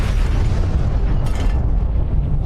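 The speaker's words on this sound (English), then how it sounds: "every time you subscribe, there should be an explosion" A loud, booming explosion sound effect, triggered by a new subscription during a live drawing stream, fills the whole stretch as a dense, rumbling roar with heavy low-end weight and no talk over it.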